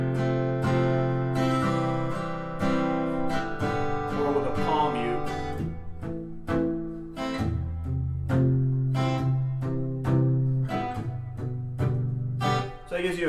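An acoustic guitar strums the chords of a song in a down-down-down-up pattern with a delayed, dotted feel, ringing close and full in repeated phrases with no voices.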